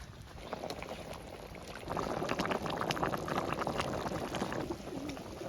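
Pangas fish curry with potatoes boils in a village kitchen pot, a dense bubbling and gurgling that swells louder partway through and stays steady to the end.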